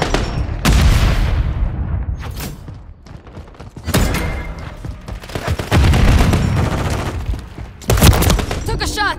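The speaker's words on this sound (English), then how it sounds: "Grenade, move!" In Call of Duty, a grenade explosion booms among loud volleys of gunfire, with sharp impacts and thuds up close and voices shouting at times through the chaos.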